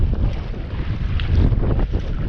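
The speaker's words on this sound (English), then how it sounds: "Paddling straight up Diablo into the wind." Strong wind buffets the microphone while kayaking upwind on Diablo Lake in North Cascades National Park, a loud continuous low rumble with rushing gusts and faint water splashes, no talking.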